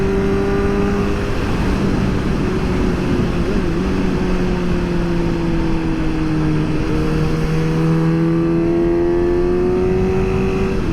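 A Suzuki GSX-S 750 motorcycle with a custom-tuned Power Commander 5 drones steadily under load for the whole stretch, its pitch sagging and lifting as the throttle is rolled on and off, with heavy wind rush mixed in.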